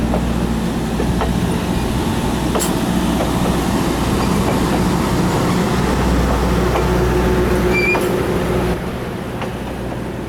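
A historic passenger train rolling past at the Owosso train expo in Michigan, a steady loud rumble with clickety-clack of wheels on rails, easing slightly near the end, with no talking.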